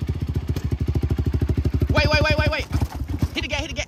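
A Honda TRX450R ATV engine idles close by with a fast, even pulsing beat, then revs sharply to a higher rising whine before dropping back and revving again.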